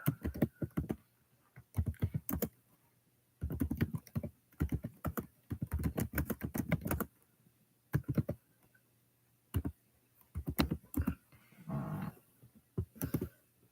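Computer keyboard typing in bursts of rapid clacking keystrokes, close and fairly loud, separated by short pauses, with a brief faint dog-like whine near the end.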